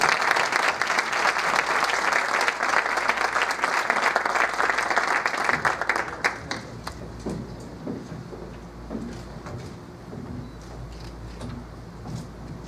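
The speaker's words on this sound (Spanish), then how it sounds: "pido que recibamos a Renato con un fuerte aplauso" A large audience at a formal public event claps loudly and continuously for about six seconds, then the applause thins out and fades into scattered claps and murmuring.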